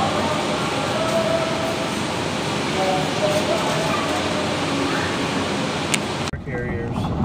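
A train carrying cars, its steady, loud rolling rumble continuing for several seconds before cutting off abruptly, with people talking faintly over it.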